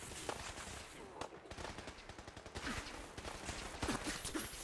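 Rapid bursts of artillery fire in Fallout 4 on hard difficulty during a castle defense, a dense string of booming blasts and crackling gunfire layered over one another, moderately loud and continuous.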